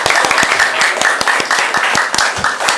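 An audience claps for a congdut band, a loud, close burst of many hands with sharp individual claps standing out through a continuous roar.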